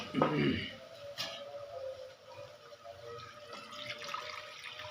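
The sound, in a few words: water poured into pan with tomatoes while cooking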